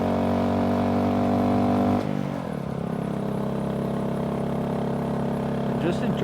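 A Honda Grom motorcycle rides a canyon road, its small engine droning loud and close, dipping briefly and then holding a steady hum as it picks up speed, with a voice talking over it.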